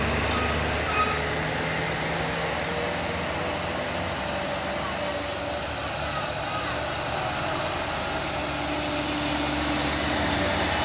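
Dump truck stalled crosswise on a steep uphill road, its engine droning steadily and loudly under constant traffic and road noise, with faint beeps in the background.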